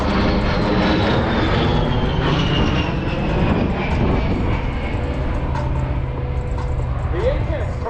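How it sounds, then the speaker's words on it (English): A-10 Thunderbolt II turbofan engines during an air show demonstration, a loud continuous jet roar with a descending whine as the aircraft passes, mixed with crowd ambience. "The A-10's turbofan engines add more than just power to its performance."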